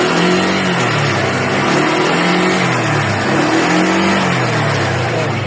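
A scooter engine fitted with a high-torque Power Jet revs loudly and close, its pitch rising and falling in repeated throttle blips over a steady roar, with no talking.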